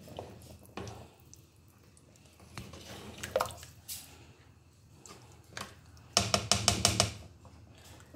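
A spoon stirs smoky jollof rice in a pot, making wet, squishy scrapes in scattered bursts with quieter gaps between them, then a louder run of quick, rhythmic scraping near the end.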